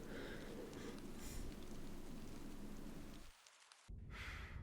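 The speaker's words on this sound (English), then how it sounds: "Why does it always rain in England?" Steady hissing rain in a video game set in England pours continuously, with a brief drop-out near the end before the downpour resumes.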